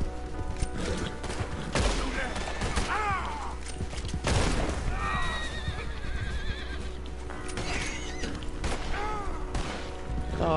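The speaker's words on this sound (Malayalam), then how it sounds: "വെടിവെക്കുകയാണല്ലോ, ഒരു കാര്യമില്ലാതെ." Bursts of gunfire in the Western video game Red Dead Redemption 2 crack out among repeated horse whinnies and clip-clopping hooves, with a couple of sharper shots standing out over a busy, steady game soundscape.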